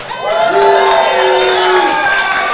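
A live crowd cheers and whoops loudly for the Dallas Mavericks ahead of an NBA Finals game, a sustained roar of voices with high shouts rising over it, swelling after a brief start and holding steady to the end.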